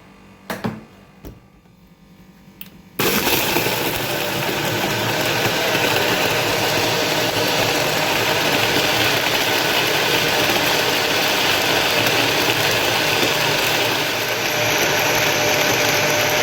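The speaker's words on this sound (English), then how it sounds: "Then I'm gonna put it back to blend some more." A blender whirs at full power through a melon smoothie with ice, starting abruptly after a few quiet seconds of handling clicks and then running as a loud, steady, unbroken roar to the end.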